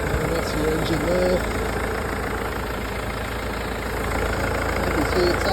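A Mercedes car with a worn body idles with the bonnet up, a steady low engine hum with a faint vibrating rumble, close and even, while a person talks over it.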